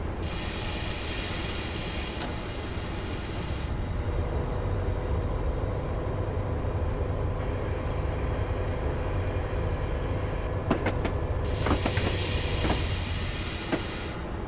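Train in Train Simulator on the Kartal–Pendik line crossing a track switch, a continuous loud rumble of wheels and motors with a few sharp clanks near the end.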